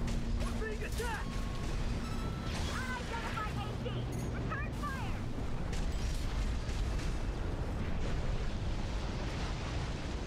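Explosions and mechanical destruction rumble through an Armored Core 6 mech battle as a dense, continuous roar, with radio-style voices talking over it.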